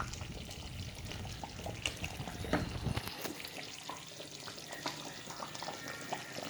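A pot on the stove at a boil, a low churning bubble with liquid splashes and scattered clinks, fairly faint and continuous.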